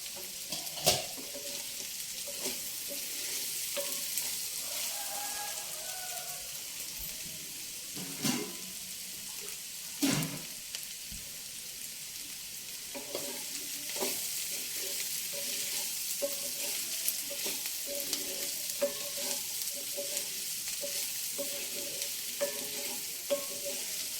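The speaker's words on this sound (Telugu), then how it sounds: "ఇప్పుడు ఈ కాకరకాయ కొంచెం వేగాలండి" Bitter gourd frying in a pan, a soft continuous sizzle close by with occasional louder scrapes and stirring knocks from a utensil, fairly even in level and free of talk.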